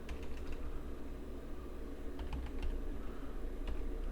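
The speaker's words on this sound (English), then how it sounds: "If you just open up a terminal and type in sudo" A terminal command being typed on a computer keyboard on a Linux machine, with soft, quick clusters of key clicks, close and quiet over a steady low background hum.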